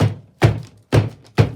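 A soap mold filled with olive oil soap batter is banged down on a surface four times, each a close, dull thunk at an uneven rhythm with brief decay.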